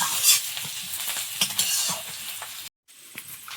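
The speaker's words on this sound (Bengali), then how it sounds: "পেঁয়াজ আর লঙ্কা ভেজে আর একটু ভেজে নি" Onions and chillies fry in oil in a pan with a close, crackling sizzle under brisk stirring scrapes. There is a brief drop to near silence before the frying resumes, and no one speaks.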